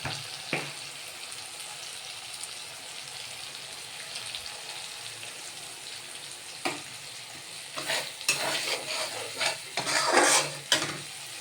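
Spice paste with tomato frying in oil in a pan, a soft steady sizzle with a few sharp utensil knocks and a louder burst of stirring and scraping near the end, no voices.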